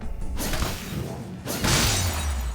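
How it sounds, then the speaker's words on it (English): A spear shattering charge in the video game Crown Trick sets off two bright, crashing shatter bursts about a second apart, the second trailing into a low rumbling tail. "that's a satisfying shatter sound. A spear shattering charge."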